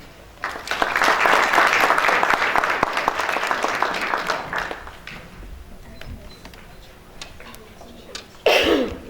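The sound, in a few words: audience applause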